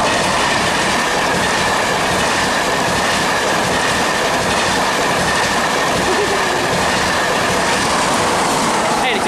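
A Class 91 electric locomotive train at Northallerton, with 91110 on the rear, roars past loudly and continuously with rushing wheel and rail noise and faint clickety-clack.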